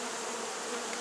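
A dense swarm of honey bees in a top bar hive hums in one continuous, even buzz, close and unbroken throughout.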